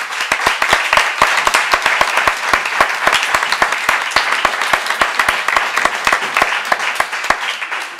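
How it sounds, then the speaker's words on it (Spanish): A gathering claps loudly for a board of directors, close, crisp hand claps in a quick, fairly regular rhythm that continues across the whole span, with faint murmuring underneath. "yo le pediría un aplauso muy fuerte para esta directiva"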